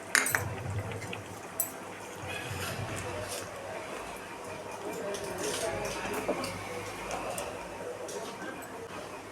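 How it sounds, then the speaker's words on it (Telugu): A spoon stirs fried dry fruits into poha payasam in a pot: soft scraping and occasional metallic clinks against the vessel, close and fairly quiet, beneath a steady background. "ఇప్పుడు ఇందులో లాస్ట్ ఫైనల్గా డ్రై ఫ్రూట్స్ ఫ్రై చేసుకున్నాం కదా, అవి వేసుకొని మిక్స్ చేసుకోవాలి"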